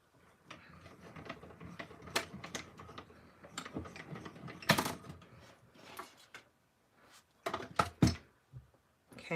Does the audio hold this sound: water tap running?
no